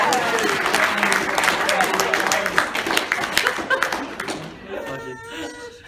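Wedding guests clap during a best man's speech, a loud, dense burst of applause with laughter and chatter mixed in, fading out near the end as a voice speaks.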